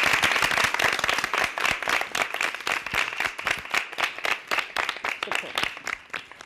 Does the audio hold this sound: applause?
yes